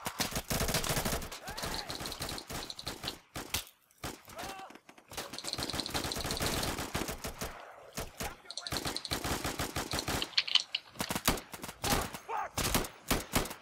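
Rapid automatic gunfire from the tactical shooter Insurgency crackles in dense, overlapping bursts throughout, loud and close, with a few brief gaps and voices talking over the shooting.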